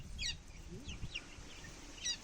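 Faint, scattered high cheeps from incubator-hatched chicks, a few short peeping calls spaced across a quiet background, with no talk.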